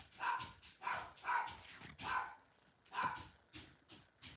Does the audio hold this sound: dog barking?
yes